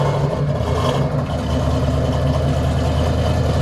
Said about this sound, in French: Là, on a le chant du V8 américain